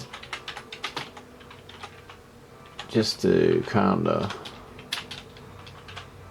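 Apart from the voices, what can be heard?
typing on a computer keyboard with one hand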